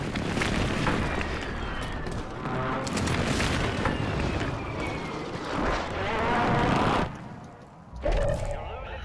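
Airstrike explosions in a first-person shooter video game rumble and boom in heavy, overlapping blasts, with gunfire and a player's voice over the din before a brief lull and another burst.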